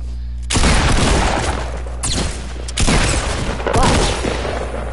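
Loud gunfire in a squad-based shooter game, with several heavy bursts of shots separated by short pauses, close and booming, with no speech over it.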